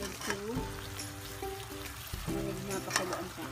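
Pork bistek, pork chops in sauce, bubbling and sizzling in a pan, a moderate crackle under a clinking utensil and a brief voice.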